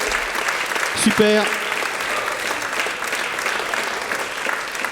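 Applause from the audience for the jury at the official FLIP 2019 trophy ceremony: a sustained, even burst of clapping through the whole stretch, with a brief spoken word and a short musical tone near the start.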